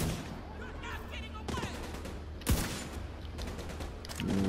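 Gunfire in Division 2 aimed at a distant sniper comes as a burst of shots with one sharp, heavy report standing out midway, over busy game sound.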